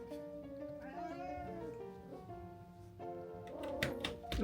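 A stray cat in the cold winter meows in several drawn-out, wavering cries, close and clear, with a short pause before a louder final meow.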